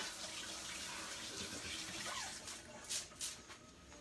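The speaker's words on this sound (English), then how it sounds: "Let me rinse this spoon" A spoon rinsed under a running kitchen tap gives a steady close hiss of flowing water with brief splashy bursts near the end as the spoon passes through the stream.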